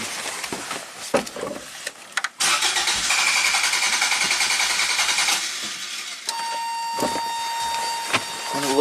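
A 1987 Toyota MR2 engine cranks and catches, then settles into a steady, loud idle with a whining hum, close by and with no talking.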